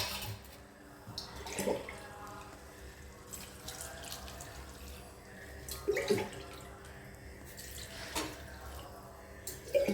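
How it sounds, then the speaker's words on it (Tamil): Water trickles and splashes steadily into a pot, fairly faint, with a few clinking knocks of metal along the way. "தண்ணி ஊற்றிக்கலாம்."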